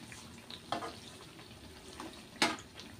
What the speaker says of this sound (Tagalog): lutuin lang po natin ng konti ang asukal